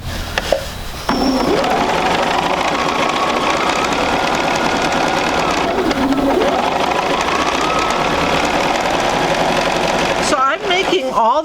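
A sewing machine stitching quilt seams along a marked line for a sampler block, running in a steady close whir for about nine seconds before stopping, with someone talking over it.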